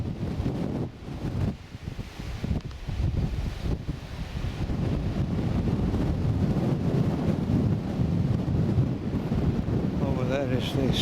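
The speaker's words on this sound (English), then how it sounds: "suddenly it's very windy" Strong wind buffets the microphone on a hilltop moor, a loud, continuous, gusty roar and rumble throughout, with a voice faintly heard near the end.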